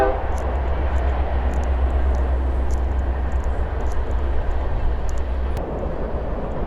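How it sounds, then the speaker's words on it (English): Train rolling along a railroad track beside a creek trail, a steady low rumble holding for the whole stretch, with faint high whistle-like tones drifting in from the distance. "there are actual trains that go by on the railroad track,"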